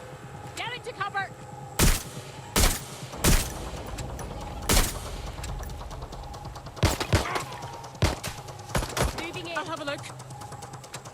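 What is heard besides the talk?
gunfire in the video game Watch Dogs: Legion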